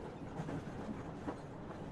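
A third-class open sleeper carriage on the Trans-Siberian route to Vladivostok rattles and clatters over the rails in a continuous, even rumble heard from inside the car.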